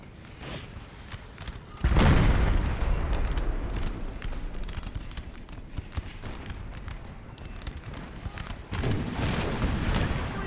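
Artillery volleys in a Napoleon: Total War American Civil War mod battle at Kernstown: a loud burst of booming cannon fire erupts about two seconds in, rumbling on with scattered shots, then a second heavy barrage near the end.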